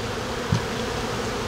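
Bees buzz steadily around a beehive feeder in a continuous droning hum, with a couple of louder passes close by.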